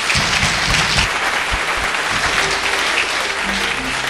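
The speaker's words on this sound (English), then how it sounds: "Because you clap your hands" Congregation clapping in a church, a dense steady wash of applause with rhythmic low thumps underneath, loud and continuous throughout.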